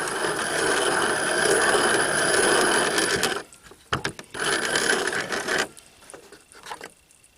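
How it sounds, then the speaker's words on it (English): Homemade black powder is ground down again to a fine 3F grain. A close, steady gritty grinding noise runs in two sustained bursts, a longer one and then a shorter one, with quiet gaps and a few clicks between. "Just grind it again until I get all the 3F I want."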